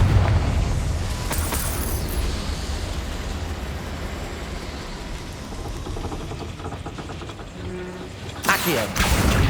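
A Confringo fire spell is cast in the Hogwarts Legacy game, giving dense, roaring broadband blast noise that sustains throughout and flares up again near the end, with no talk over it.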